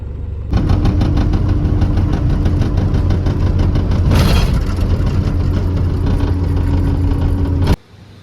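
Diesel vehicle engine idling steadily and loudly up close right after a quick start on a new battery, a continuous low rumble with knocking texture that cuts off near the end.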